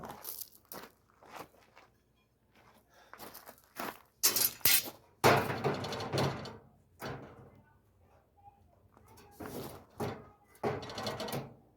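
Sharp metallic knocks and crunchy impacts in irregular bursts as a hammer strikes the mangled sheet-metal side of a 1951 Chevrolet pickup box against a dolly, close and loud with quiet gaps between.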